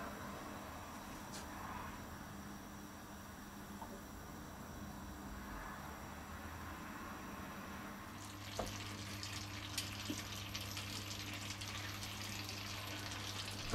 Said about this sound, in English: I'm going to put my butter into a pan, and I'm going to